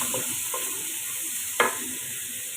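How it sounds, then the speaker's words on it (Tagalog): Vegetables with oyster sauce are stirred in a pan for a shrimp stir-fry over a low, constant sizzle, with a few soft scrapes and one sharper clack of the utensil midway. "At haluin natin guys."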